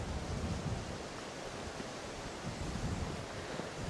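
Strong gale-force wind during a severe weather warning roars steadily into the microphone, a dense continuous rush with gusty low-end buffeting throughout, at a house renovation site in Portugal.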